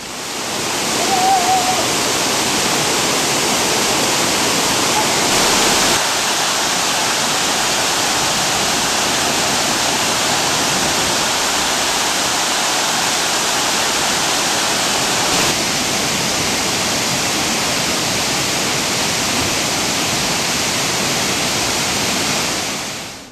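Roadside waterfall in the Kudremukh hills pours in a steady, loud broadband roar that stays constant throughout, close by and with no talking over it.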